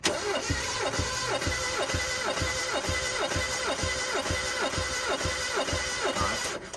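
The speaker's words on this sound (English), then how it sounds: "You gotta full throttle it and then just crank it." A Mazda Miata engine cranks at full throttle for a compression test, the starter churning in a fast, even rhythm of pulses, loud and close with no catch, then cutting off at the end.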